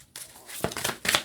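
Tarot cards riffle and slap together in a few quick, crisp bursts, close by, with soft papery rustling between them.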